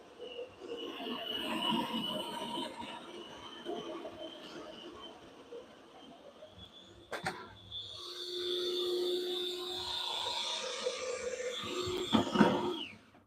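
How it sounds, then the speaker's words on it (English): A coffee grinder set to coarse grind runs on beans for cold brew in a home kitchen, giving a steady rough grinding rasp that shifts in pitch partway through and swells near the end, close and loud with no talking. "I set this on coarse grind because when you're making cold brew"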